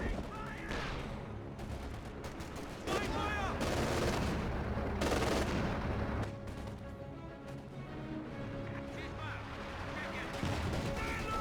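Machine-gun fire from an MG34 in Company of Heroes 2, sharp bursts and repeated shots amid a dense game battle mix with explosions and other gunfire, running under a commentator's continuous talk.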